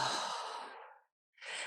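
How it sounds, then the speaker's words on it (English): A long, audible breath pushed out through the mouth during a calming yoga breathing exercise, close and steady before trailing off, with the start of another breath following after a short silence. "1 long exhale through the mouth"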